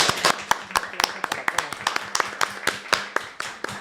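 Audience clapping at the close of a seminar on migrant women writers, gender and Islam, a dense run of sharp claps at close range with voices mixed in underneath.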